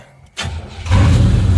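A 1986 Oldsmobile Cutlass Salon with its check engine light on cranks briefly with a whirring starter, then fires and catches into a loud, steady running rumble close to the microphone.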